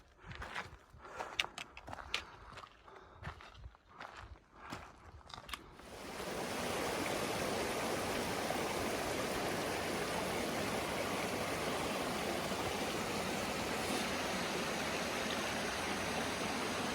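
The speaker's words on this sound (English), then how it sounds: "We are getting water here at this beautiful stream." A mountain stream in Crabtree Meadows on the Pacific Crest Trail rushes steadily and close, a broad continuous flow that takes over after a few seconds of crunching footsteps and handling noises.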